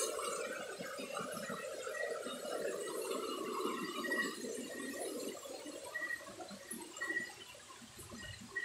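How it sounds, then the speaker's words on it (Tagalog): A river flows and gurgles at night during a night hunt under big trees, steady watery babbling at low volume, with faint insect chirps above. "Yung ilog mga idol."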